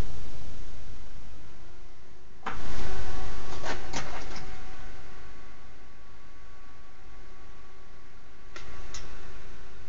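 The stock cooler fan on an AMD Phenom II X6 1100T processor runs with a steady, loud whirring hum and faint tonal whine, and a few soft clicks and thumps occur partway through.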